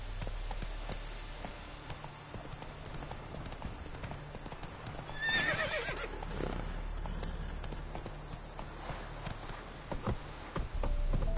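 A horse in The Witcher 3 video game trots with rhythmic hoof clip-clops, a brief whinny rising partway through, over a low steady background hum.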